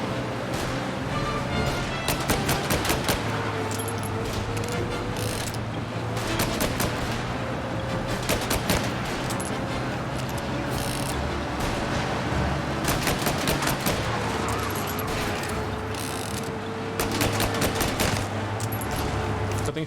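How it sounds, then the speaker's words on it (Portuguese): Sustained gunfire in the 1930s gangster game Mafia: Definitive Edition, with repeated bursts of shots over a steady engine-like drone, loud and continuous throughout. "Tem que ficar atirando mesmo?"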